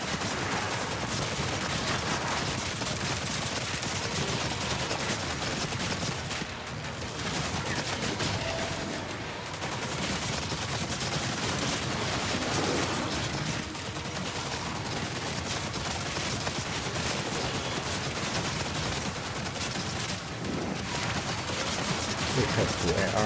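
Rapid automatic fire from the Ravager weapon in Doom: The Dark Ages, a dense, continuous barrage that builds in pace and stays loud and close throughout, with only brief dips in the stream of shots.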